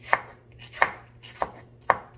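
Four crisp knife strokes through chili on a cutting board, evenly spaced about two-thirds of a second apart, close and clear with no talking.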